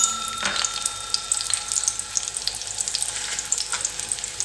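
Peeled small onions, about fifteen, go into hot oil for a tomato coriander chutney, giving a steady bright sizzle and crackle with small pops throughout, close and alone.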